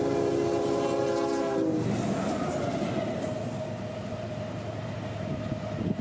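A speeding train passes a crossing on the S Line near the Bushnell defect detector: a loud horn sounds at first, then gives way to a steady, close roar of wheels and cars rolling by.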